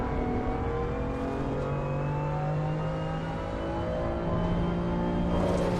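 BMW M2 and GT4 race cars run at the Hungaroring in a racing video game. Several engines drone and rev together in a continuous, layered whine that shifts pitch as the cars accelerate.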